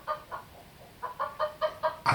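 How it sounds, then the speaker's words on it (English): Hen clucking played through an Alexa smart speaker: a run of short, evenly spaced clucks over about two seconds, fairly close and clear, ending in a louder squawk. "Here's a chicken sound."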